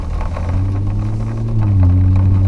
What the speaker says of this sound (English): I really want to hear how this exhaust sounds on it.